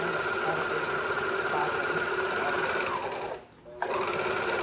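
A sewing machine hums at a steady, loud pitch as it runs continuously, then cuts out briefly near the end before starting up again, during work on baby bloomers and matching shirts.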